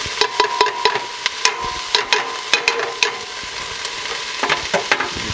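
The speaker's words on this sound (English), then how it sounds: "So what I'm doing right now is on medium, medium-low heat. I'm caramelizing the onions." Onions caramelize in a pan over medium-low heat, a soft continuous sizzle punctuated by a regular series of sharp spatula scrapes and clicks.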